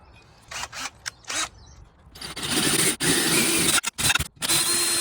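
A power drill whines loudly as it bites through welded aluminium, running in a few short bursts before a longer steady grind, with brief stops.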